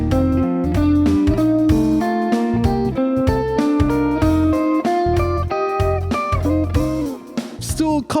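Guitar exercise played with notes held into each other, alternating low and high lines for a dual-melody effect, a continuous loud stream of overlapping plucked notes with no talking.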